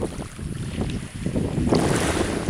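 Waves break on an empty beach at Mytilini, a close, steady wash of surf mixed with gusty wind buffeting the microphone.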